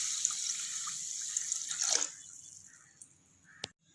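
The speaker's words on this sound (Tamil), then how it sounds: "இப்போ இதை தண்ணி ஆட் பண்ணி ஒரு 2 முறை வாஷ் பண்ணிக்கலாம்" Water runs and splashes in a bowl as rice and lentils are swished around, then the flow stops, leaving a few faint drips and a clink.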